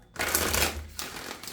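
Tarot cards being shuffled make a dense, close papery riffling and flapping that runs for over a second, with a brief dip midway, and no voice over it.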